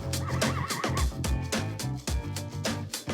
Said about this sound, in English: That is definitely the horse.